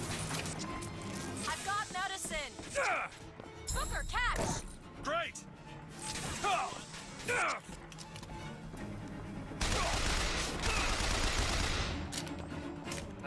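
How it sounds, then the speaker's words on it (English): Shotgun fire in BioShock Infinite: several loud, punchy blasts in quick bursts mixed with crashes and impacts, then a sustained noisy stretch toward the end, with a voice talking between shots. "That shotgun is crazy strong."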